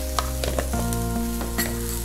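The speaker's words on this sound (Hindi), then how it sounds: "बंधा कोबी कैप्सिकम रेड ग्रीन और येलो आपको अल्प फ्राई करेंगे" Cabbage with red, green and yellow capsicum frying in a pan gives a loud, steady sizzle, broken by a few soft stirring clicks.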